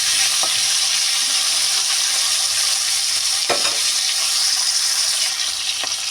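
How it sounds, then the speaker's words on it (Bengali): Cauliflower frying in a pan gives a loud, steady, close sizzle throughout, broken by a few brief stirring clacks. "এবার ফুলকপিগুলো ভেজে নেবো।"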